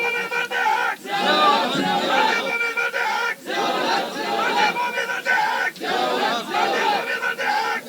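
Large crowd loudly chanting slogans in rhythmic bursts at a rally marking the 33rd death anniversary of General Zia-ul-Haq in Pakistan, voices surging together with brief pauses between chants.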